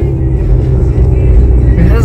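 A car engine rumbles loudly with heavy throttle as a learner driver presses the accelerator, a close, steady low drone that builds slightly near the end, with a voice speaking over it.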